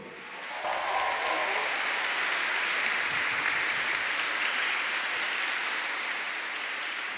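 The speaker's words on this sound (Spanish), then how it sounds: "déle un grito de júbilo al Señor y un aplauso fuerte" Congregation at a worship concert giving loud, sustained applause, a dense continuous roar of clapping filling the whole stretch with faint voices mixed in.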